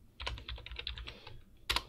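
Keys on a computer keyboard tapped in a quick irregular burst, then one louder keystroke at the end, close and clear with no talking.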